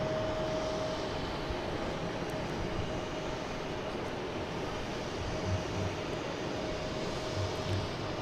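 A Lufthansa airliner on final approach to land at Boston Logan International Airport gives a steady, broad jet-engine roar that holds at an even level throughout, distant rather than close, with no talk over it.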